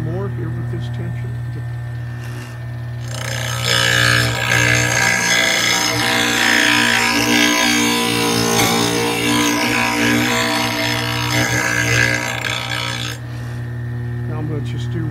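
A radial arm sharpener grinds metal off a mower blade, a loud continuous grinding roar over a motor hum that swells for about ten seconds before easing back, with a voice speaking over it.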